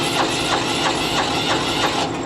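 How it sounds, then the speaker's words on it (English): An M1070 HET truck's auxiliary power unit fires up into a loud, steady diesel rumble with a rhythmic pulsing chug, close by and with no talking over it. "So you can hear that APU fire up."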